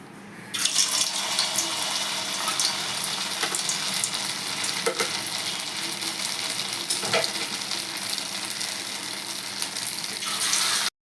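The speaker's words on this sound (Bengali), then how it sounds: "এইভাবে আমি সমস্ত ছানাগুলোকে ভেজে নেব" Pieces of chhena (cottage cheese) frying in hot oil give a steady, close crackling sizzle that runs for about ten seconds with small pops and bursts, no voices over it.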